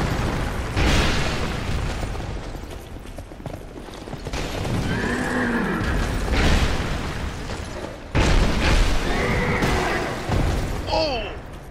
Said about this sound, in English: There's a horse, of course.